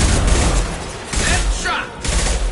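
Rapid gunfire from the video game Mass Effect 2 crackles in dense, overlapping bursts, loud and close, with a voice shouting over the shots.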